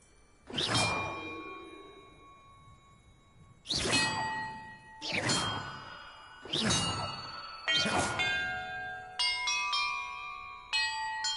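Large bells ringing in Hogwarts Legacy, five loud separate clangs with long ringing decay spaced a second or two apart, then a quicker run of lighter, higher chimes at the end.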